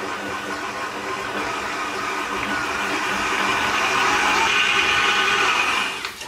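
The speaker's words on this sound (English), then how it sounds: "I'm going to pop the mixer on and I just want to cream this together until those are really smoothly mixed" Kenwood electric mixer creaming butter and sugar, a steady loud whirring motor hum that builds slightly in strength before cutting off abruptly near the end.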